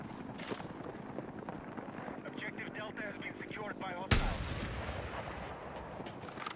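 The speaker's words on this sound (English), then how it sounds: "I just wasted all my rockets." Rocket launches and explosions from a Battlefield 6 multiplayer match, a steady barrage of booming blasts with one sharp loud impact near the end, under the player's talking.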